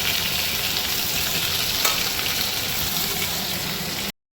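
Carrots and potatoes fry in a pan, a dense continuous sizzle close up with faint stirring, holding steady for about four seconds before cutting off abruptly.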